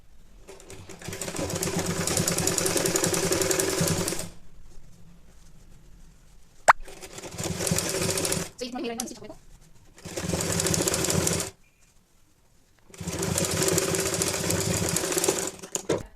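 A sewing machine stitches a baby saliva towel in four long bursts of rapid whirring, close and loud, separated by pauses with light handling clicks and fabric rustle.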